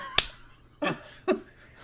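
A person imitates a walrus clap with three sharp, separate smacks spaced unevenly about half a second apart, close and dry with no talking over them.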